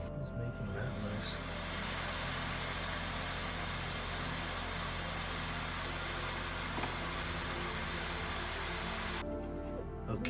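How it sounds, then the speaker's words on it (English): A 3D printer performs automatic bed leveling, its motors producing a steady close-up hum and vibration that shifts in pitch partway through and drops away near the end. "now it is moving on to the leveling, which is an enormous pain on my other printer"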